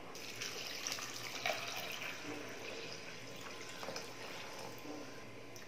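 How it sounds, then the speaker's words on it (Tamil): Water pours steadily into a pot of lentils with a soft, continuous hissing splash, fairly quiet and unbroken for several seconds. "இப்போ பருப்புக்கு தேவையான அளவுக்கு தண்ணி ஊற்றிக்கலாம்."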